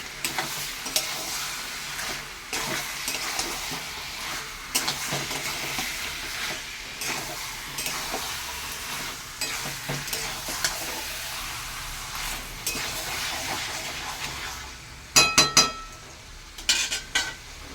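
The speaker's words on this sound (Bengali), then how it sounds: "এবার আমি এই মাংসগুলো দিয়ে দেবো।" Mutton frying in a wok while being stirred, a continuous loud sizzle broken by repeated scraping strokes of a spatula and a cluster of metallic clinks near the end.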